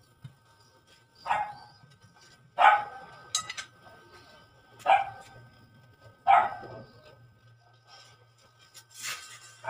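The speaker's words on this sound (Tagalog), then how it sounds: "Sabay-sabay ng tahol" Several dogs bark in loud, separate bursts near a pedicab tire repair, roughly every second or so, with a steady low hum running underneath between barks.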